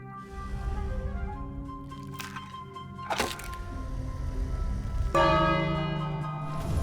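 A bell rings in the King's Quest game, loud resonant strikes with long ringing tones over steady game background, a second heavier clang near the end.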